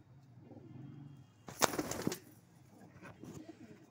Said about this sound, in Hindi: क्या क्वालिटी है कबूतर की।